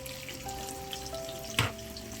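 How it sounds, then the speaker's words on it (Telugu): Onions and green chillies frying in hot oil for semiya fried rice produce a quiet, even sizzle with one brief louder clink partway through, no talking. "వేసుకుని ఉల్లిపాయలు పచ్చిమిర్చి అన్నీ వేయించుకుందాం"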